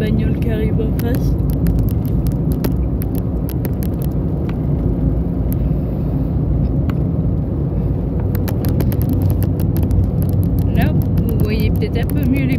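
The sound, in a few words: car approaching from the opposite direction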